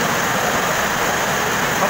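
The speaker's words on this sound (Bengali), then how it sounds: "যা বৃষ্টি পড়ছে" Steady rain falls at a railway station beside the Puri–Sealdah train, a loud, dense, unbroken hiss with no talk.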